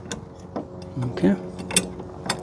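A ratchet snugs down a locking nut on a truck bed rack clamp on a Chevrolet Silverado ZR1, giving a few short, close mechanical clicks and creaks with brief pauses between turns.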